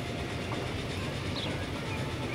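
A train rolls into a station in the video game Transport Fever, a steady rumble with faint clickety-clack of wheels on rails, moderately quiet and continuous with no talk.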